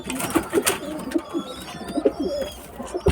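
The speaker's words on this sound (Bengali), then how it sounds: "মেহেদি কি মোটা পায়রাটা উফ কি মোটা" Pigeons coo close by in soft, repeated low throaty bursts, with fainter bird chirps and occasional rustling between the calls.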